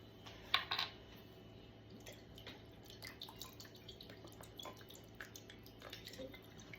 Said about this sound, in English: I'm going to add in some W sauce